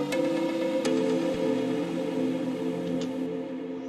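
The synth lead from a song plays as sustained, buzzy tonal notes that hold steady and bright, with a couple of faint percussive ticks and no voices.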